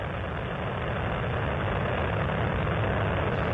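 The Space Shuttle Columbia's three liquid-fuel main engines roar as a dense, continuous broadband rumble during the STS-107 launch. The sound is loud and unbroken, with no voices over it.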